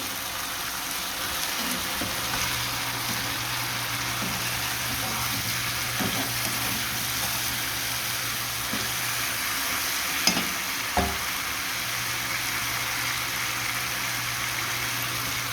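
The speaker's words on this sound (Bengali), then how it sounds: "মশলা কষানো হয়ে গেছে, এখন আমি এই মাছ ভাজা দিয়ে দিব" Pieces of fried fish stirred into spiced masala in a pan for a murighonto dish, giving a steady sizzle with occasional scrapes and taps of a utensil and a constant low hum beneath.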